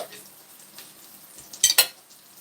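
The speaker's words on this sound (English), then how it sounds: "Oh, you can hear it sizzling now, right?" Green tomato slices frying in a pan for a BLT, giving a low steady sizzle with a couple of louder crackling bursts near the end, close by.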